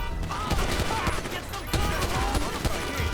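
Rapid bursts of gunfire from the video game GTA V rattle through a bank-robbery mission, dense overlapping shots and automatic fire repeating steadily across the moment, with a player's voice talking over the action.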